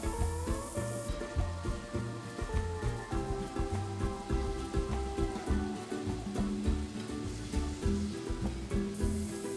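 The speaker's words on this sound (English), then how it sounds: "I'm going to let that saute in the seasoned oil for a minute or 2, maybe 3" Onion softening in seasoned oil in a pan, a steady close hiss and crackle of sautéing running the whole time at an even level, with no talk.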